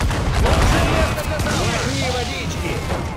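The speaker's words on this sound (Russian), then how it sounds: "Хороший залп, наконец!" A ship cannon volley from the naval game Assassin's Creed IV Black Flag: a short rumbling burst of booms and blasts, with shouting voices laid over it.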